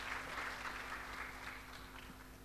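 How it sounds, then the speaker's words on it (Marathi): A church congregation at a Sunday service in Pune claps in a dense, even wash of applause that holds steady for a couple of seconds before easing slightly. "टाळ्या वाजून त्यांचं स्वागत करूया"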